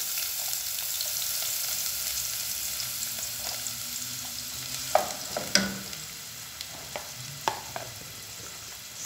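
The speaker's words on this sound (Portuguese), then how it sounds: "Vou pôr um pouquinho de cebola cortadinha." Chopped onion frying in a pan for a homemade pasta dish gives a steady hiss. A few sharp clinks and scrapes of a utensil stand out near the middle, with no voices.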